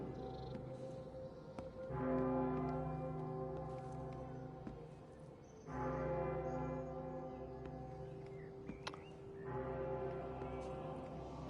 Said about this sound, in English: I hear the church bells ringing, so now I can go back to the church